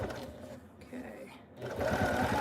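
A sewing machine back-stitches the start of a seam on a tote strap at a longer stitch length, its rapid motor whir running steadily and swelling louder toward the end, with a voice talking over it.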